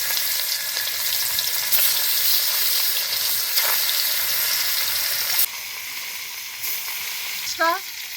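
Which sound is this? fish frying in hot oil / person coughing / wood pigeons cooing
fish frying in hot oil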